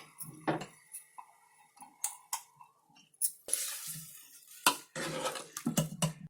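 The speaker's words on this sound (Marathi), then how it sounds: "आता याच्यामध्ये ही डाळ ओतते" Kitchen clatter of a pot and utensils, with a sharp clink, then a soft rush of dry lentils poured into the pot, a brief scatter, and more clanking.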